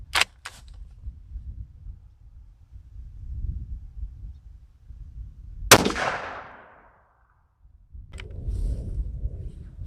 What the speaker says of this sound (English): I'm going to crack a round off here. You'll get to see the blast and maybe notice a little bit of the recoil.